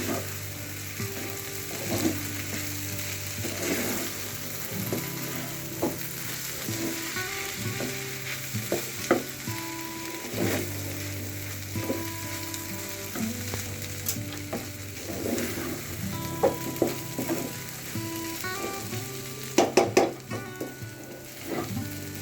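A dish with chopped coriander leaves sizzles in a pan while a utensil scrapes and stirs in repeated strokes, with occasional sharper clanks near the end, all quiet and without talk.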